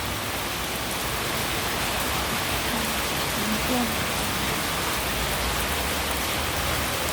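Rain falls hard and constantly outside a flooding house in Thailand, a thick roaring wash of drops that stays loud throughout.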